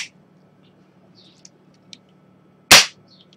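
Daisy 1894 Winchester-style BB air rifle fires one sharp, loud snap near the end, after a quiet stretch of faint clicks and small handling sounds.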